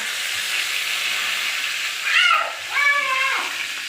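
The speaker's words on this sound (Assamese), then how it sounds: "তাৰপিছত মই এতিয়া ইয়াত দিম দুখিলা তেজপাত" Sugar and bay leaves dropped into hot oil give a steady broadband sizzle and hiss, swelling briefly twice near the end with a sharper crackle, close with no talk.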